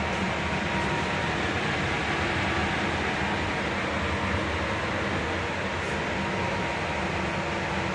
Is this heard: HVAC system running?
yes